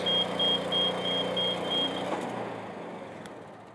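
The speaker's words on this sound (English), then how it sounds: "So I'll just start the machine, and now as you'll see, I can operate the machine very simply by using those toggles." Engine of an Athena 850 HE tracked machine running as it starts to drive, a steady mechanical hum with a high-pitched intermittent beeping for the first two seconds, then fading slightly.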